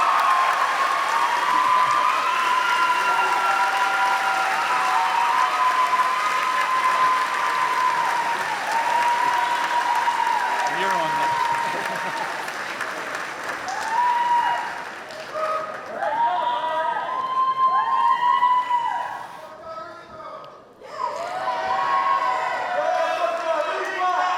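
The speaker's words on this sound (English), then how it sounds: "Let's give a big round of applause to Valerie Figueroa." Audience applause and cheering at the UMHS 2026 graduation ceremony after the valedictorian is called up, a loud sustained wash of clapping with scattered whoops and voices rising over it, easing briefly before swelling again.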